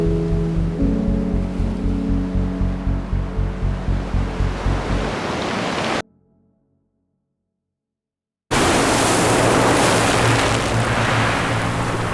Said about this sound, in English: Waves wash over me